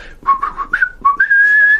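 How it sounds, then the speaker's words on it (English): A man whistles a short melodic run: several quick chirping notes, then a longer sustained tone that rises and holds, clear and close with no other sound behind it. "I would be the amazing whistling man"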